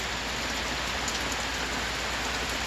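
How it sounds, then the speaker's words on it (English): Heavy rain pours down outdoors in a dense, steady hiss of countless drops striking surfaces all around, constant and loud with no pauses or voices. "the rain starts pouring down all around us"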